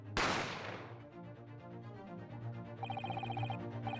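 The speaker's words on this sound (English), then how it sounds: "You heard the gunshot, you mean?" One loud gunshot cracks sharply near the start and decays into a ringing tail, followed by a faint, steady electronic ringing tone.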